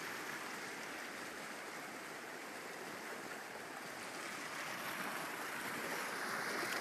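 Floodwater rushes through rockwork in a steady, broad wash, continuous and moderately distant, with no voices.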